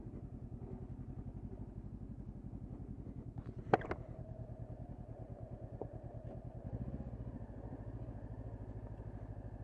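A Honda CB500X motorcycle rolls slowly past at close range, its engine pulsing in a steady low thump, with a brief sharp clatter around the midpoint and a slight swell as it passes.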